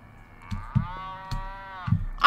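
A cow moos in the Happy Humble Burger Farm video game, one long drawn-out lowing call, loud and close, with a few dull thumps around it.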